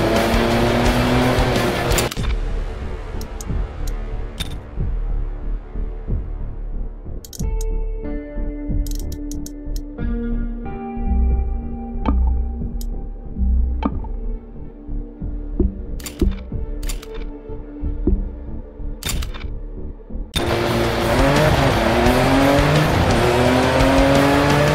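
Rally car in the desert racing game Dakar Desert Rally: loud engine roar at the start and end, and between them a rhythmic throbbing idle with sharp revs and bursts of engine and tire noise.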